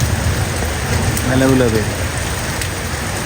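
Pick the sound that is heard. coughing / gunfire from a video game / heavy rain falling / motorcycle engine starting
heavy rain falling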